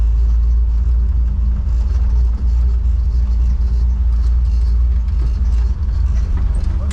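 A 1955 Chevy drives slowly through mud to find a parking spot, its engine giving a steady close low rumble with faint gravelly crunching and a few bumps along the way.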